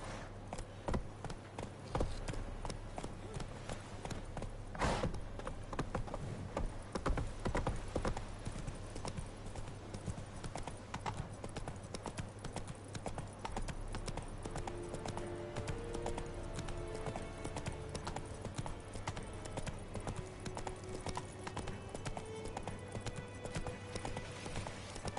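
Roach, Geralt's horse in The Witcher 3: Wild Hunt, gallops steadily for the whole stretch, hoofbeats pounding in a continuous rhythm over a game soundtrack with sustained musical tones.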